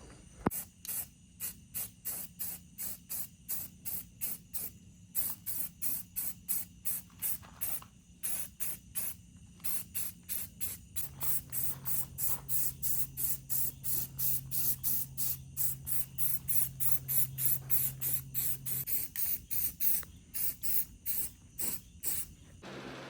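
Spray paint goes onto go-kart frame parts for a first coat in quick repeated hissing bursts. Each burst is short and close, and the bursts fall in a steady rhythm over a faint background hum.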